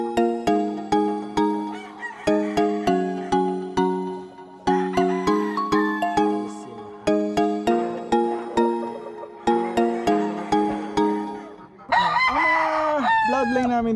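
Gamefowl roosters on a game farm crow repeatedly and clearly, several birds taking turns in close succession, loud and near, with a burst of busier clucking and squawking at the end.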